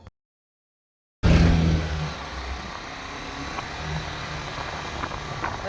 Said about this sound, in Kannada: ಬೈಕ್ ರೈಡರ್ಸ್ ಹೋಗ್ತಿದ್ದಾರೆ.